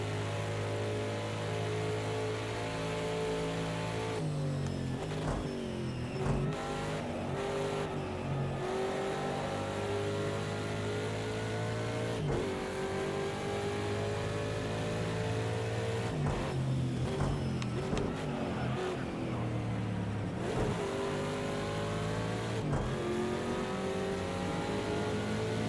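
A race car engine roars steadily during a sportscar race at Road America with a BMW nearby. It climbs in pitch, and several abrupt gear-shift drops break the continuous loud drone.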